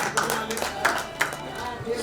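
At an employees' gathering in Bhiwandi, a crowd claps briefly for an award recipient: a loose, uneven patter of hand claps that rises and falls over a short stretch, with voices talking over it.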